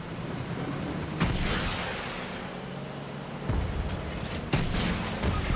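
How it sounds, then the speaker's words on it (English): Fortnite video game explosions: several separate booming blasts spread irregularly across the span, the strongest in the latter half, each rising out of a continuous ambient rumble. "those explosions remind me to GTA 4's explosions"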